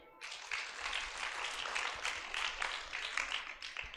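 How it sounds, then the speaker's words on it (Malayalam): Audience clapping at a Malayalam motivational speech, steady dense applause from a crowd that starts abruptly and carries on without pause. "ഒരു കയ്യടി കൊടുക്കുക"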